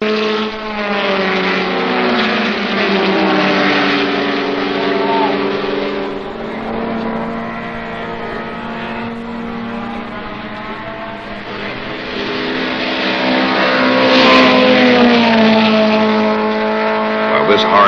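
Datsun sedans, Alfa Romeos and BMWs race in a Trans Am B-sedan event at Watkins Glen, several engines howling loudly together, their pitch climbing and falling steadily as the pack passes close by.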